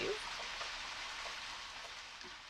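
Steady rain falls in the video game Deadly Premonition: Origins, a dense even hiss of drops with no voices, easing only slightly over a couple of seconds.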